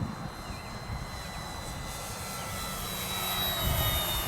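An FMS Kingfisher radio-controlled model plane flying steadily overhead, its motor a continuous whine over wind rumble, growing slightly louder toward the end.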